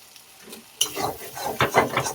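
A spice paste with salt and coriander sizzles as it is stirred in a pan, with soft frying hiss and a few scraping strokes of a spoon near the microphone.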